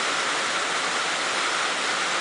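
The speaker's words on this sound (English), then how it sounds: "A shot of the polycarbonate 3-bay waterfall reservoir" Water pouring steadily through a polycarbonate three-bay waterfall reservoir inside an Antec 1200 PC case, a loud, even hiss like heavy rain, close and unbroken throughout.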